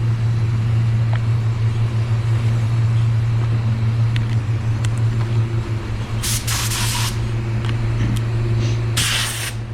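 A spray gun at 27 PSI lays down two-tone water-based car paint with a 1.3 tip, giving short hissing bursts close by over a steady low hum of equipment.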